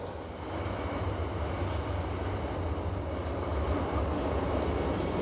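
A Rhaetian Railway (RhB) train runs along the Davos line through the Prättigau pastures of Switzerland, a steady, continuous low rumble of wheels and carriage noise that builds slightly, with no voices.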